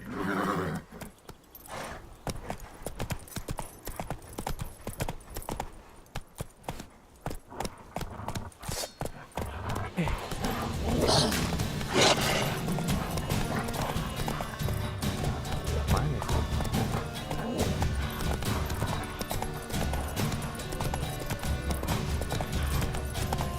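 Horse hooves clip-clop in a steady galloping rhythm in The Witcher 3, loud and continuous, with a whinny and other game sounds mixed in and occasional speech over the top.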